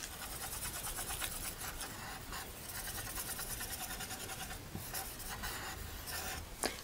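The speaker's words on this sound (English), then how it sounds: "these smudge sticks, make sure that you don't press too hard" A smudge stick rubs lightly over a pencil drawing of a scorpion on paper, a faint, close, continuous scratchy swishing with occasional stronger strokes.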